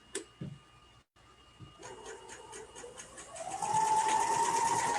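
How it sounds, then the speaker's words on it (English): An overlocker serges fabric for a blindstitch: a few light clicks and taps open the clip, then the machine starts up into a rapid, rising stitching whir that grows louder and steadier near the end, with no talk. "We're just going to serge, and we're going to make sure that the needle again is going right into the fold of the fabric."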